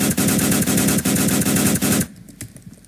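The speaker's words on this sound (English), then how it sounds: "Who's shooting me?" Rapid automatic gunfire in a Roblox shooter, a loud dense burst of shots for about two seconds that cuts off abruptly, leaving faint scattered game sounds.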